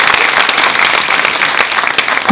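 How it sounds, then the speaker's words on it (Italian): Theatre audience bursts into sustained applause in a live comedy show, dense and steady clapping filling the hall for a couple of seconds with no voices over it. "voglio da parte di tutti quanti voi un applauso per le vittime di quella tragedia"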